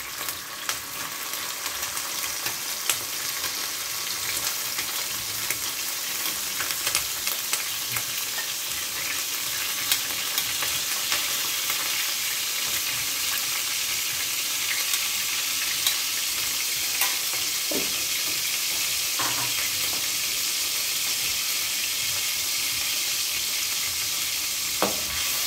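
Small anchovies fry in hot oil in a pan, a dense continuous sizzle with occasional scrapes and clicks of a utensil stirring them, steady and close throughout with no talk.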